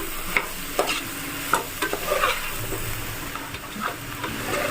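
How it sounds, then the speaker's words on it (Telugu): Chopped bottle gourd pieces being stirred into hot oil in a frying pan: a continuous close sizzle carries a series of sharp spatula scrapes and knocks at irregular intervals. "కట్ చేసి పెట్టుకున్న ఆనపకాయ ముక్కలు వేస్తున్నాను దీన్ని కూడా ఇప్పుడు మొత్తం కలిసేలాగా కలయి పెట్టుకుంటున్నాను"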